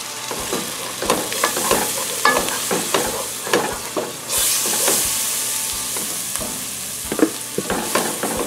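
Garlic and flour cooked and stirred in a pan for a corn and potato chowder, with rhythmic close scrapes of the spoon over a constant sizzle and a brief louder hiss midway.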